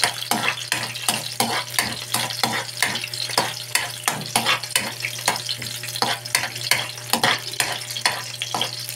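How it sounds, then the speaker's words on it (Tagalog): Garlic frying in oil in a pan gives a constant close sizzle, while a spatula scrapes the pan in quick, regular strokes roughly every half second. A low hum runs underneath, and no one speaks. "Ito muna natin ang mantika at saka bawang"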